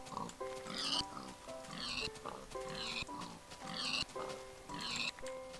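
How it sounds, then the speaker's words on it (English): Pigs grunting and oinking in Minecraft Beta 1.2, several snorting calls repeating at a steady rhythm about once a second, fairly close, over a low game background hum and light game sounds. "I'm just going to kill a few pigs, get enough food to last me at least this episode"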